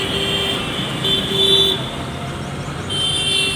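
Busy Kolkata street traffic of buses, trams and cars, with a steady roadway rumble broken by several sustained horn toots, one after another, fairly close.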